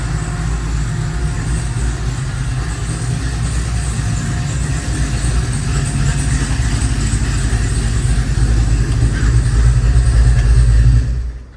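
A 1966 Ford Fairlane GTA with a 460 engine idles loud and close, a deep, steady rumble with a slight rise near the end before cutting off.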